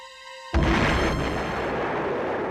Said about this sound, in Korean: 런던 서쪽 교외의 치스윅에 그야말로 우레와 같은 폭발이 일어났다